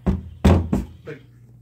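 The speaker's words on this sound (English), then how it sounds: "Someone's knocking at your door." Knocks on a door: one sharp rap, then two heavy thuds close together and a softer fourth, loud and close with no talk.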